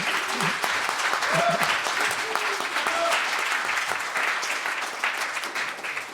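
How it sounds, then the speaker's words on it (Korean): Sustained applause from an audience at a political debate final held in the National Assembly, greeting two debaters, dense and fairly loud throughout, with some speech and faint tonal sounds over it. "두 명의 용감한 이 국회에 와서 토론하고 있는 토론자들에게 큰 박수 한번 부탁드리겠습니다."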